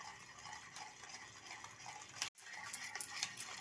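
A utensil stirring fruit cake batter with milk in a bowl for a no-oven Christmas cake, with faint, soft scraping and wet mixing sounds, quiet and close, with a brief pause partway through.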